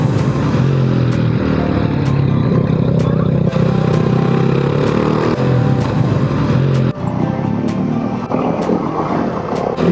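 Several tuned motorcycles riding together up the Passo San Marco mountain road, engines droning loud and close with shifting revs and periodic sharp clicks, a continuous dense roar throughout.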